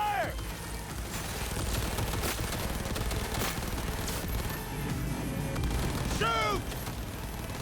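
Cyberpunk 2077 combat gunfire: steady rattling shots and impacts over several seconds, with occasional crashes, laser-like whines and shouted voices mixed in.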